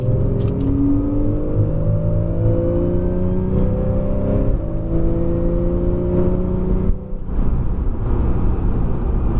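Porsche 911 Carrera S accelerating hard on a race circuit, engine revving loudly and climbing in pitch through repeated gear changes, close and continuous, with a brief dip near the end before it pulls again.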